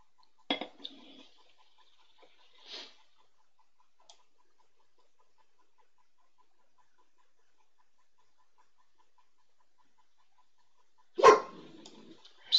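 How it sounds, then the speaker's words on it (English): A house dog barks at a car driving past outside, giving a short burst of barks near the start, a lone bark around three seconds, then a louder, harsher outburst near the end, with quiet between. "Sorry about my dog. Someone is driving in front of the house, and that's apparently just not okay."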